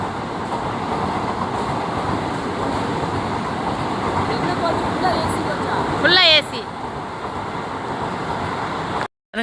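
A train rumbles steadily close by with a continuous roar, a brief high screech of wheels or brakes partway through, then an abrupt cutoff.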